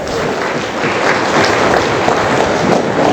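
Loud, sustained applause from an audience, dense clapping filling the whole stretch without a break.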